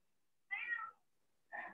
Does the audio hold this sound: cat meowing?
yes